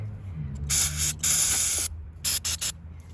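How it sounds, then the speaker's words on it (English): Carburetor cleaner sprays onto the carburetor of a Honda HR214 push lawn mower in hissing bursts: a long two-part spray, then three quick short squirts, close and fairly loud. "get a little bit of carb spray in there."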